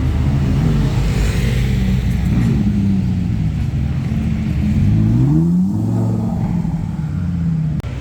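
A Porsche 911 GT3 RS 991 phase 1 approaches on a Cannes street, its engine rumbling loud and close with rising and falling revs amid steady traffic noise.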